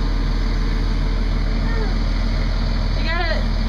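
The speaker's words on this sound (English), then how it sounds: "It's a big, loud truck." A big, loud truck rumbles steadily and close by at a sidewalk construction site, a low constant engine drone that fills the whole stretch with a faint squeal near the end.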